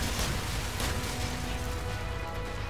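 A nuke detonating in the Call of Duty 4: Modern Warfare campaign, heard as a loud, sustained, dense roar of rumbling blast noise that barely fades, with no voices over it.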